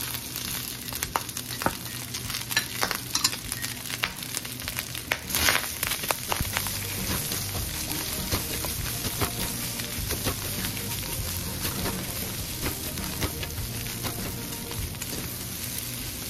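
Garlic and onion sizzling in a little oil with pork for binagoongan, a steady close frying crackle with scattered pops and stirring clatter throughout.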